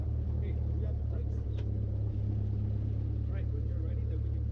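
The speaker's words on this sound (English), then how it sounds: "we're about to start the engine" Piston engine of a light training aircraft running steadily at about 1,000 RPM, a loud, constant low-pitched drone with a faint throb, filling the whole stretch close by; the start itself is not distinct.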